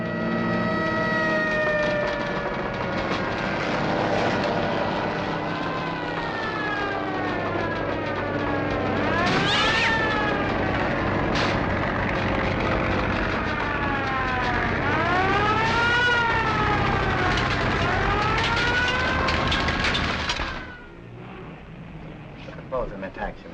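A fire engine siren from a firehouse just down the street wails in rising and falling sweeps, loud and close, over continuous background sound with voices talking.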